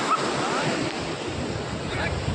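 Sea waves wash onto the shore under a cool wind, a continuous close roar of surf mixed with buffeting wind noise on the microphone.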